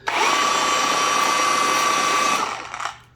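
A gear-driven dual action polisher spreading polish whirs with a steady high motor whine, close and loud, then winds down and stops near the end.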